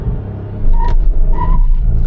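A Tata Altroz Racer engine rumbles steadily and builds as the car accelerates from a standstill, with a low droning roar throughout.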